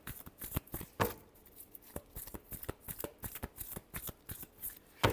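Tarot cards are shuffled close by in a rapid, rhythmic series of crisp papery slaps and riffles, continuing without pause.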